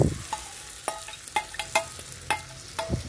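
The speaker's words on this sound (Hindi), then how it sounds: "उसके बाद हम ये बेसन और लौकी के पेस्ट को इसे मिक्स कर देंगे" Gram flour and bottle gourd paste stirred in a frying pan, with a steady soft sizzle broken by sharp spatula scrapes and knocks against the pan, irregular and close.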